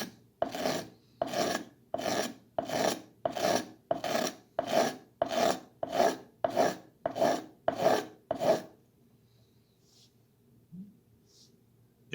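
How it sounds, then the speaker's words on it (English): Knife edge held upright and scraped over cloth to raise lint, about a dozen evenly spaced rasping strokes close up, followed by quiet. "I'm going to put it straight down, very perpendicular. And I'm going to scrape."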